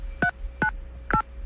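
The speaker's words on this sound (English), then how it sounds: "I thought we'd dial it up." A touch-tone telephone keypad dials a number, with three short distinct DTMF beeps at uneven intervals, clear and close against a faint hum.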